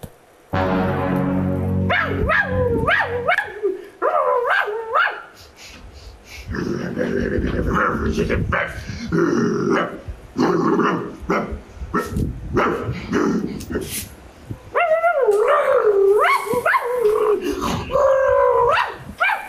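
A dog barks, whines and howls in bursts, fairly close and loud, with gaps between the outbursts.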